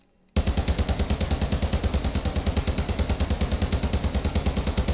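Rapid automatic fire from the TAQ-V rifle in Warzone 2, a long unbroken burst of evenly spaced, loud, punchy shots starting abruptly after a brief silence, heard alone without talk.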